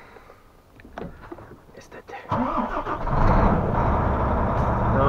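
An Iveco Hi-Way truck's engine cranks and fires up, rising into a loud, steady diesel rumble after brief quiet rustling and a few spoken words from a nearby man.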